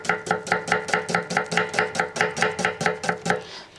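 A knife chops food on a cutting board for Yemeni-style zurbian chicken biryani, about sixteen rapid, evenly spaced close thuds in a steady rhythm that stops near the end.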